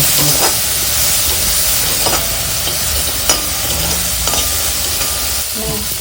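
Vegetables sautéing in a pan with oregano and chili flakes, a steady sizzling hiss with occasional stirring scrapes and clicks running through the whole stretch, close and fairly loud with no talking.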